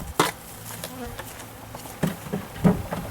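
Honey bees hum and buzz around an opened hive during a split, a close, continuous drone with occasional louder passes near the listener and a few soft knocks.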